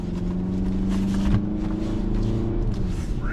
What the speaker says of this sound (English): Now we got that nice linear torque delivery out of this naturally aspirated 4-cylinder with the 8-speed automatic